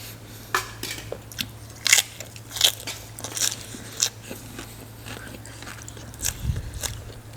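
Crispy fried pork leg bitten and chewed up close, a series of sharp crunchy bites and crackles at irregular intervals over a low steady hum, with no talking.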